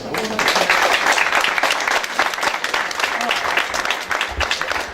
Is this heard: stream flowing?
no